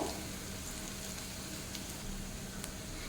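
Pumpkin flower fritters fry gently on a low flame, giving a soft, continuous hiss of bubbling oil that stays steady and fairly quiet throughout, heard up close with no voices.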